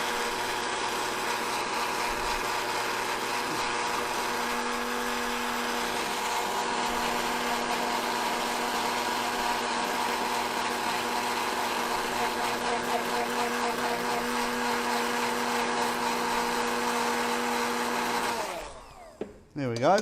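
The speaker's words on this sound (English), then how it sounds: "I'm trying to let the stick blender get some air in there as well" A stick blender whirs steadily in a jug of liquid, whipping air into it to raise a foam, a continuous close buzzing drone for about eighteen seconds before it stops and a brief clatter follows.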